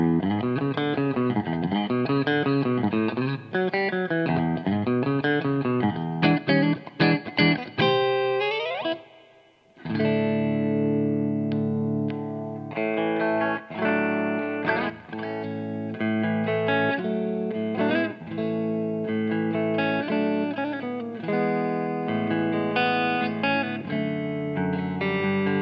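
A PRS SE NF53 electric guitar is played through heavy distortion and effects, with sustained chords and riffs ringing loudly and continuously, a brief gap midway before the driven playing resumes.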